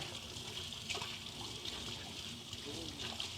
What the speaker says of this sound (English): So let me wash my hands again.